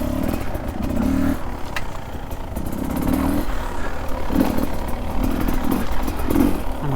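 A Beta 300 dirt bike engine revs and burbles unevenly while riding a wooded trail among ferns, rising and falling in repeated throttle bursts with some clatter.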